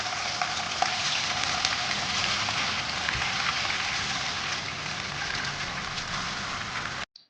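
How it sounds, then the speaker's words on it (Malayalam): Chicken pieces dropped into hot oil for Thalassery chicken dum biryani, a loud, dense, continuous sizzle close by that runs steadily and then cuts off abruptly near the end. "ചിക്കൻ എണ്ണയിലേക്ക് ചേർത്ത് കൊടുക്കാം"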